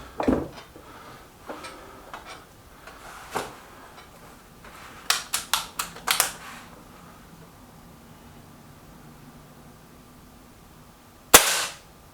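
Air rifle shots from a Milbro Guardian and a Stoeger XM1 in a target-shooting match: a single sharp crack near the start, then a quick cluster of four or five snaps mid-clip, with one loud shot near the end and quiet between.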